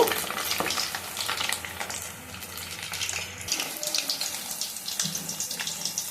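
Ivy gourd pakodas deep-fry in hot oil as battered pieces are dropped in one by one. The oil gives a close, continuous sizzling with bursts of bubbling crackle and small splashes.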